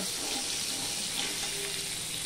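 Hilsa fish pieces fry in hot oil, a steady bright sizzle and crackle that runs without pause throughout, close and even in loudness.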